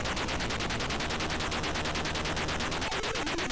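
Enemy gunfire in the 1983 Atari 2600 game Snoopy and the Red Baron, a loud, fast, evenly pulsing rattle of chiptune shots that continues without a break.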